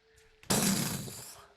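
A sudden thunder crack and rumble, a sound effect in a horror tabletop role-playing game, bursts in loudly after a brief quiet, then fades over about a second under a faint background tone.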